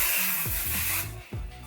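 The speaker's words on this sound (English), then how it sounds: "I'm gonna just spray some heat protectant spray" Heat protectant hair spray sprayed onto short hair, a loud close hiss from an aerosol can in two quick bursts with a brief pause between them.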